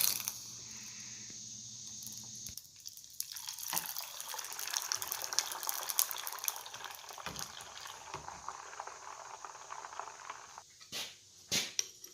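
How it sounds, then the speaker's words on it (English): A forge-heated tomahawk made from a railroad clip is quenched in oil, giving a soft, hissing, bubbling liquid sound that fades and flares, with a few faint clinks near the end. "I heat it up to non-magnetic in the forge and quenching it in oil."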